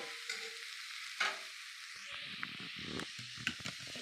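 Tomatoes dropping into a pan of frying squid curry, a steady close sizzle with stirring scrapes and a few sharp clinks, no talking.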